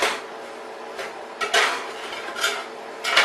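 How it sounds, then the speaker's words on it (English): Burgers being flipped in a metal pan on the stove, with sharp clanks and scrapes of a spatula against the pan in several bursts, close and loud, with no talking. "We're going to flip our burgers for the first time."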